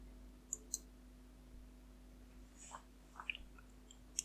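A computer mouse clicking while setting up a Windows 10 connection, a few faint, sharp, isolated clicks scattered over a quiet low hum, no talking.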